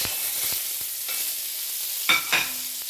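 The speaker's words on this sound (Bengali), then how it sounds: "ওই তেলে আলুগুলো আমি ভেজে নিচ্ছি।" Potatoes frying in hot oil in a pan, the quiet hiss broken by scattered stirring knocks and a pair of louder metallic clanks near the end, no voices.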